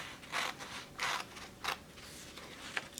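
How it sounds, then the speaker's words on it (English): Quiet, crisp snips of scissors, four separate cuts spaced about half a second apart against soft background hiss. "she took her scissors and she cut"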